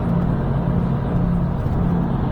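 Car with a 3-litre twin-turbo engine barreling along a road, a steady low engine drone with road and wind noise, even and fairly loud, no talking.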